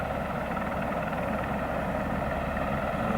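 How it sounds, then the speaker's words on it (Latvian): A helicopter flying near a mountain village in Norway, with a steady, loud rotor and engine drone that continues unbroken throughout, without voices. "Filmēsim, kā nokrīt helikopteris."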